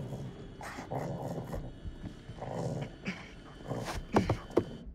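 A video game dog growls and barks in short, gruff bursts, rising to sharper barks near the end, fairly close with no talk over it.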